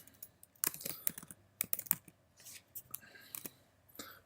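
Typing on a computer keyboard, irregular bursts of crisp close key clicks with short pauses between groups of keystrokes, fairly quiet and with no voice.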